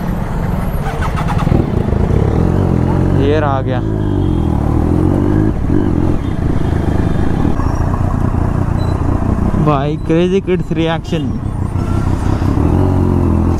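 A Triumph Daytona 675 sport motorcycle's loud exhaust revs hard in two sharp rising bursts over steady engine rumble, with someone talking throughout amid a busy street.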